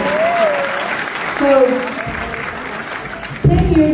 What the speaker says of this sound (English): So yay, you can clap, that's good.